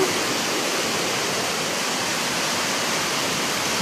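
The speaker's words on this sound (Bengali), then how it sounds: "ছাদের জল নামে" Rainwater pours steadily off a house roof during heavy rain, a dense, continuous rushing splash, close and unbroken.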